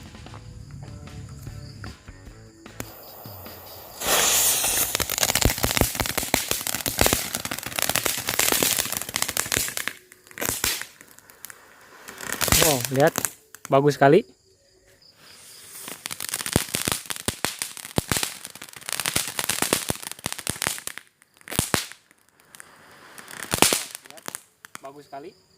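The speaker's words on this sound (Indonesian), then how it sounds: "Sekarang kita coba nyalakan mercon air mancur yang ungu ini." A purple fountain firework at night, burning with a loud sustained hissing spray in several long bursts with short gaps between, while people talk and exclaim over it.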